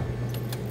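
Bunch of keys jangling close by in a short metallic shake, bright rattly chimes over a low steady hum, while gearing up for a motorcycle ride to the gym.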